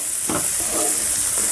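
Chopped onions with salt frying on a medium-high flame for tomato bath: a loud, steady sizzle with a few scraping stirs of a spoon through the pan.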